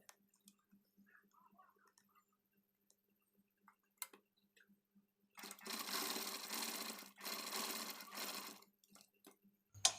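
A sewing machine stitches a design onto a blouse sleeve in two bursts of rapid, buzzing whirring, separated by a short pause, amid quiet handling clicks before and after.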